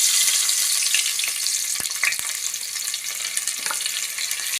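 Onions fry in hot oil with mustard seeds for a dry fish gravy, a steady, close sizzle punctuated by a few soft clinks of stirring.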